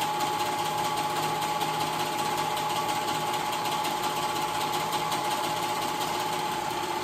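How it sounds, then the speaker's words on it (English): A serger sewing heavy ponte knit fabric hums and chatters at a steady, fast pace, running continuously and close by with no pauses or voices. "I'm using my serger, but you can use your sewing machine with a stretch stitch"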